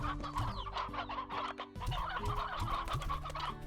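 Hens in the video game Slime Rancher cluck repeatedly in quick, busy bursts over sustained background music, fairly loud and continuous, with no talking.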